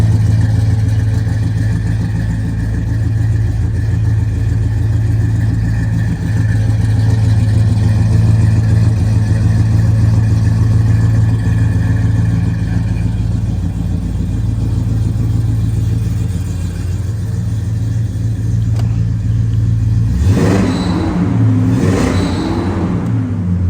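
A fuel-injected 350 cubic inch V8 in a 1972 Oldsmobile Cutlass 442 tribute with a performance cam idles with a lumpy, loping rumble, then revs sharply twice near the end, rising and falling quickly, close and loud.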